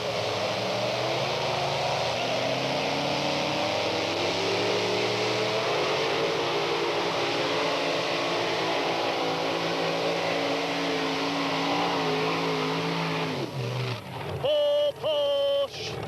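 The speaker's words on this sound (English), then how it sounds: "This 88 Corvette, sharp-looking machine, 640 cubic inch aluminum Ford power plant." An 1988 Corvette two-wheel-drive tractor puller with a 640 cubic inch aluminum Ford engine roars under load at a pulling event, a loud sustained drone with shifting harmonics, then a sharp drop and sputtering near the end, under a faint announcer voice.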